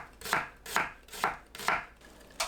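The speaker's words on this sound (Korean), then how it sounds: "양파를 곱게 채 썰어주세요" An onion is cut into fine julienne strips with a kitchen knife on a cutting board, four crisp, evenly spaced chops followed by a softer fifth, close and clear with no talk.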